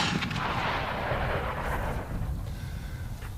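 Shotgun blasts from a Browning Maxus 2 semi-automatic firing 3-inch rounds outdoors, a loud booming report with a long rolling echo that fades across the clip.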